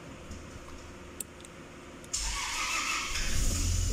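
A Toyota Land Cruiser engine with its timing belt deleted idles quietly, then rises into a louder revving roar as the RPM climbs, close by and without talk.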